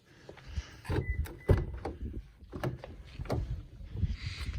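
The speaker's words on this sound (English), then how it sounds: "I'll kick open the door real quick." A 2020 Toyota Tundra TRD Pro truck's rear door is handled nearby: a few thumps, a latch clunk and a sliding, rattling movement, with scattered knocks.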